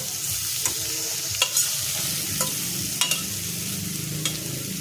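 Steady sizzle of pointed gourd frying with garam masala and chilli in a pan, with a few sharp clinks of a spoon stirring at irregular moments; no voices.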